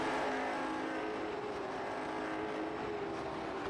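Late model stock cars, a Ford Mustang and a Chevrolet, race in a sim racing game at Southern National, their engines droning as a steady, loud, continuous roar with a sustained engine tone throughout.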